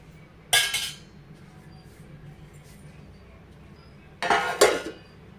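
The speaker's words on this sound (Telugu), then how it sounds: "సో దీన్ని అయితే కొంచెం మూత పెట్టేసి ఉడికించేసుకుందాం" A lid is set on a cooking pot of simmering taro root pulusu: two distinct metallic clatters a few seconds apart, each a short rattling clank, separated by a quiet stretch with faint background hum.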